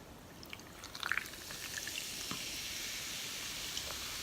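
Root beer pours quietly in a thin stream, with a few small splashes and a faint fizzing as it fills a glass.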